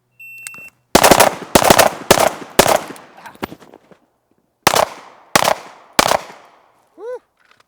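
Rifle shots from a box drill ring out in two sharp, loud bursts of closely spaced cracks, four then three, with a brief timer beep at the start and a short tone at the end.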